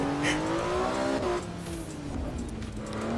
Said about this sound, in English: You hear how that engine runs away?